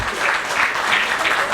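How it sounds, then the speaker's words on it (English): Audience applause fills an awards ceremony hall, a steady wash of many hands clapping at even loudness throughout, with no voices on top. "my small ears tell me that this side is clapping more than this side"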